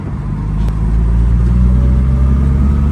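A classic car engine pulls steadily in second gear, a loud, close, low drone that swells slightly as it accelerates, with a brief click near the start and no speech.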